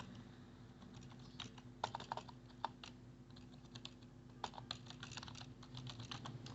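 Someone typing text on a computer keyboard in MS Word: quiet, irregular bursts of key clicks over a faint background hum, with no voice.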